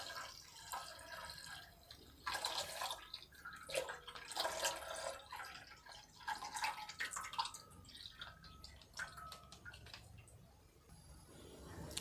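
Cow's milk poured through a strainer for a village-style payesh, a soft trickling and dripping stream that comes and goes in several close bursts, fairly quiet, with no talking.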